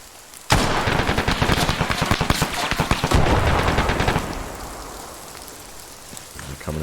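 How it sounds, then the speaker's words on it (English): Light machine gun fire in the Arma 3 military shooter, Antistasi mode, Chernarus: a loud burst of rapid shots starts abruptly and rattles on in quick repetition, then fades into a softer crackle and ambient wash. "light machine gun."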